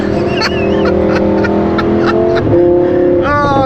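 Lamborghini fitted with a titanium Armytrix exhaust revving close by, a loud sustained engine roar with a rising rev near the end, while people talk over it.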